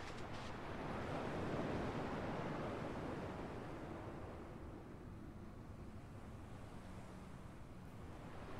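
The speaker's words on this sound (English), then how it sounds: "At least the waves sound the same." Ocean waves washing in steadily in the Kingdom Hearts 2 game, a continuous broadband surf that swells early on and then settles into a softer, even wash with no voices.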